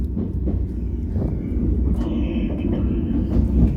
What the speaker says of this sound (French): Ah, il y a les rails qui bougent